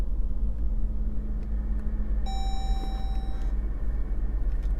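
A 2015 Jeep Grand Cherokee idles with a steady, close, low engine rumble, while a brief electronic chime tone rings over it partway through.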